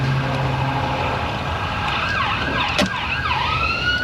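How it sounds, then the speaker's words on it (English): An ambulance siren wails outside an auto repair shop as it passes. Rising and falling sweeps come in partway through over a steady background hum and grow clearer toward the end. "There's our hourly ambulance going by."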